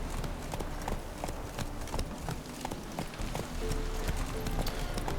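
Roach the horse from The Witcher 3 gallops with a quick, steady run of clip-clopping hooves close by, with talk over the top.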